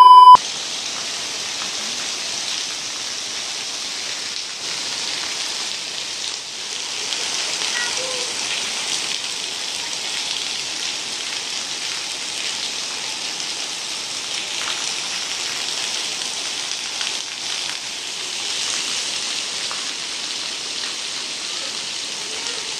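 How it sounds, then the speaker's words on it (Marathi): Heavy rain pours steadily on an outdoor play area during a family outing, a dense, even hiss of drops on surfaces that holds constant and fairly loud throughout with no talking. "तो बघा तिथे पाऊस पडतोच आहे जोरात"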